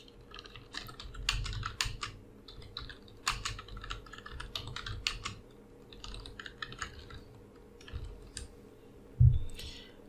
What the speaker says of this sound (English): Now type whatever you want.